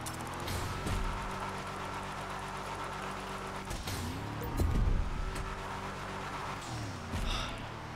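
A car drifts through a sandstorm drift race in GTA Online: a droning engine rises and falls with revs, and brief tyre squeals break through, continuous and close.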